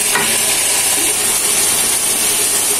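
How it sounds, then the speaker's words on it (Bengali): Spices for a fish curry with cauliflower are sautéed in a pan, giving a loud, close, continuous sizzle mixed with scraping stirring sounds. "দেখতেই পাচ্ছেন ভিউয়ার্স, মশলাগুলো ভালোভাবে কষানো হয়ে গিয়েছে"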